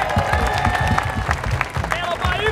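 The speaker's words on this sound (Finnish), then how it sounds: "antakaa kaikki itsellenne raikuvat aplodit." Applause and cheering from an audience at a Finnish hip-hop show, dense clapping mixed with crowd voices and a whistle, steady and fairly loud, with talk layered over it.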